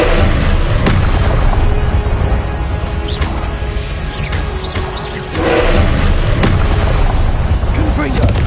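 Confringo fire blasts burst in Hogwarts Legacy, with repeated loud explosive booms over a dense, continuous din of spell effects and a voice.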